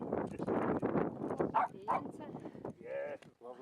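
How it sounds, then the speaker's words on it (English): A small dog named Tashi barks and yips in short, sharp bursts, some whimpering, close by and mixed with people talking. "Tashi, stop barking."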